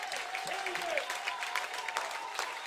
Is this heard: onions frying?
no